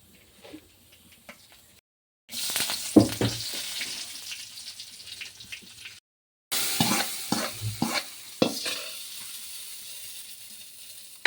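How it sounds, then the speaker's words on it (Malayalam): Mustard seeds and fenugreek fry in hot oil with a steady crackling sizzle and occasional sharp pops, broken by two short silent gaps, with no talking. "ഇനി അതിൽ ഉലുവയിടുക. കടുകിട്ട് വറുത്തിടുക."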